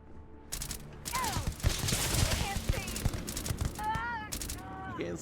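Rapid gunfire in the video game Starfield, dense bursts of shots with whooshing and chirping effects overlapping, loud and continuous through most of the stretch.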